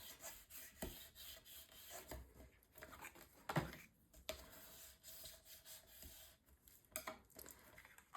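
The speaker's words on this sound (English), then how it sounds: "And then I'll burnish this down." Quiet, close rubbing and scraping as paper pieces of a mini album base are burnished down by hand, with soft irregular strokes and a few sharper scuffs, and no voice.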